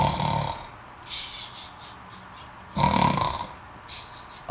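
A voice playfully imitates snoring in a children's storytelling, giving two drawn-out rasping snores with soft breathy whistles between them, close and fairly quiet.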